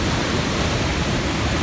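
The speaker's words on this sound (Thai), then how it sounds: "เราอยู่ที่น้ำตกตาโตน" Tat Ton waterfall in Mukdahan, Thailand, during the rainy season gives off a dense, steady rushing roar of falling water, loud and unbroken, with no voices.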